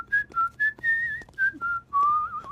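A person whistles a wandering melody in a series of clear, bright phrases with short pauses between them, close and fairly loud, with no talking.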